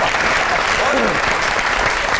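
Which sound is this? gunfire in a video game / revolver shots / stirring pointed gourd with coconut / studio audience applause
studio audience applause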